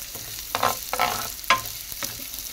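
Chicken fries with onion and garlic in a pan, a soft continuous sizzle broken by several distinct stirring scrapes and clinks. No voices are heard.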